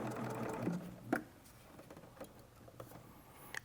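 Serger sewing machine stitching a blind hem, a fast ticking run of stitches that quickens then tapers into a few isolated clicks, close and fairly quiet without talk.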